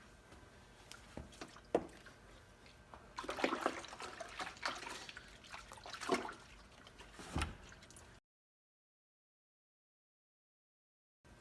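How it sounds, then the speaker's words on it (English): Hands are dunked and swished in a bucket of hot soapy water, giving faint sloshing splashes and swirls in several bursts, then a pause into silence near the end. "We're going to dunk each hand in there, swish them around, and see which one comes out cleaner."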